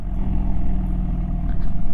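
A SWM Stormbreaker 1200 motorcycle engine idles with a steady, throbbing low rumble, close by and fairly loud, with no one speaking.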